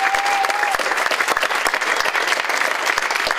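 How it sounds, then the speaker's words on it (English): Steady, dense applause from a conference audience at a gathering against drones, a continuous wash of many hands clapping at fairly close range with no talk over it. "So give them a round of applause."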